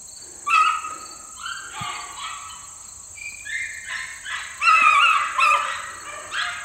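Young dogs chasing a rabbit bay and yelp in high-pitched bursts from some distance, overlapping and irregular, over a steady background hiss with faint outdoor ambience.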